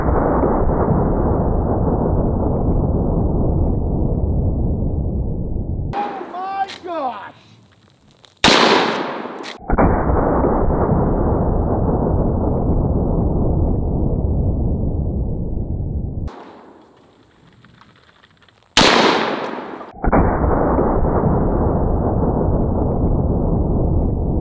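A lever-action gun is fired at cans of nacho cheese and tomato paste, two loud sharp blasts each followed by a brief quieter gap, heard over a steady, heavy noise bed.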